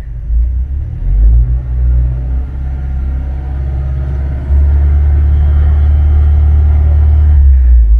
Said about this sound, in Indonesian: Dan aku akan coba injek gasnya nih.